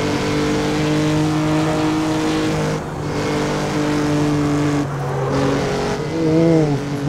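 Jaguar C-Type racing engine in the Assetto Corsa video game, a loud steady harmonic drone that drops briefly around gear changes and rises and falls as it revs, with a sweeping pitch near the end.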